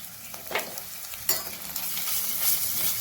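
Pounded ginger and garlic fry with browned onions in a pan, a soft continuous sizzle with a few sharp stirring scrapes, close and quiet with no voices.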